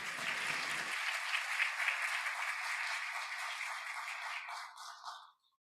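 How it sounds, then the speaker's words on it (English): A commencement audience in a large hall claps hands, producing a dense, sustained wash of applause for about five seconds before it thins to a few scattered claps and ends. "Give God a hand clap for this day now."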